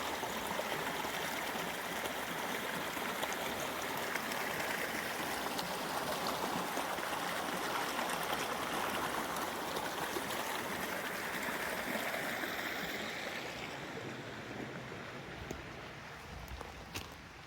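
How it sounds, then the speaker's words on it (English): A creek flows steadily close by on a Colorado gold-prospecting claim, a broad continuous rush of water with no talk, easing slightly toward the end. "That's the creek now."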